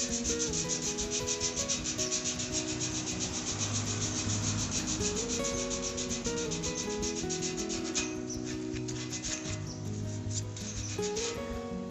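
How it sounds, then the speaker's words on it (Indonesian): Steady, continuous abrasive rubbing as a fence is sanded by hand before painting, a dense scratchy texture that persists close and loud for the whole stretch with no voices. "ini tetap harus masih diamplas"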